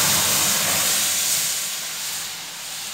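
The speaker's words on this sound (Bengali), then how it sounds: "এবার এই সিদ্ধ করা যে ডালটা আছে ওটা ঢেলে দেওয়া হলো।" Boiled lentil dal poured into a hot pan with radhuni tempering sets off a loud, steady sizzling hiss that fades slightly toward the end, with no voices.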